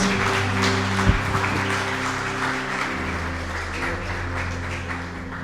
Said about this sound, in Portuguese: com uma linda salva de palmas para o Senhor Jesus.